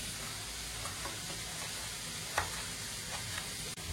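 Onions sautéing in a pan while cooking a tomato chutney-style dish give off a steady, close frying sizzle and hiss, with a few light stirring clicks and no voices.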